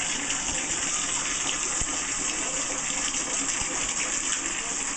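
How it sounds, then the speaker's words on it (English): Steady rushing water pours continuously into a cup, a constant gushing hiss with a few faint knocks. "Still waiting for this cup to fill up here."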